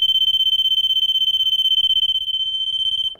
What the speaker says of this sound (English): When this is open, after about 7 seconds,